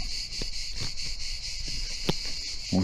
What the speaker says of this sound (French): On descend dans le centre, il y a des cigales qui chantent.